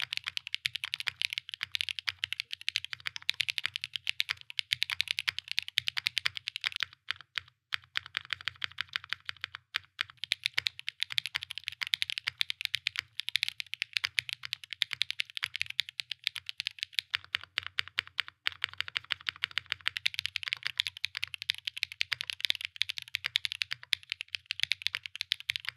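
Typing test on a Matrix Lab Corsa mechanical keyboard fitted with GMK Polybius keycaps: a fast, continuous stream of close, crisp keystrokes with a deeper thock underneath, alone without talk.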